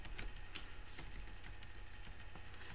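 A title is typed on a computer keyboard as a quick, uneven run of close, light key clicks over a low room hum, with no voices.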